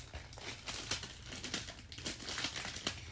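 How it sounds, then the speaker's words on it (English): Plastic wrappers crinkling and rustling steadily as packaged mini poppet fidget toys are unwrapped, a close, continuous crackle with no talk. "just to unbox these all at once. Not unbox. Unwrap."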